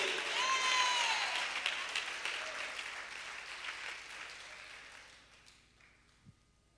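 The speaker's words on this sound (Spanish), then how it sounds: "¿Alguien puede dar un aplauso al Señor en esta hora?" Church congregation applauding the Lord, a broad wash of clapping with a few cheers that gradually fades away to near quiet, with a single soft thump near the end.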